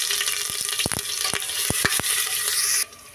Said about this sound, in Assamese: এতিয়া কুকাৰত তেল গৰম হৈ গ'ল। মই ইয়াত দি দিছোঁ নহৰু।